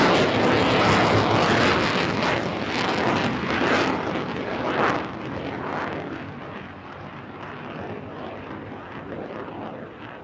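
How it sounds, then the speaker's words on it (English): F-16 fighter jet flying a display at Farnborough International Airshow: a loud, broad jet roar that fills the air, sweeping and slowly fading as the aircraft passes, with no talk over it. "So the F-16 can crack along at twice the speed of sound."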